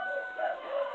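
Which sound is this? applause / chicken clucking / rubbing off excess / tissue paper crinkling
chicken clucking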